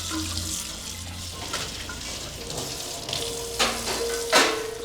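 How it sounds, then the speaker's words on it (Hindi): Dishes being washed in a home kitchen sink under a running tap, a steady broadband water rush with occasional clinks and small clatters rising near the end, no talk. "मम्मी जी, आप क्यों बर्तन धो रही हैं?"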